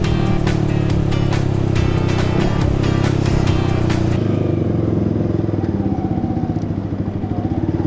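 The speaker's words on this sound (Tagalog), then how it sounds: "Anong motor?" A motorcycle engine runs loud and close in a busy Tagaytay street setting, a steady low drone with clattering that fades slightly as it passes.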